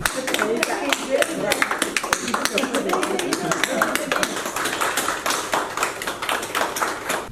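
Hospital health workers in Adana applauding as COVID-19 patients are discharged, a quick, steady run of hand claps mixed with taps, with voices in the group underneath.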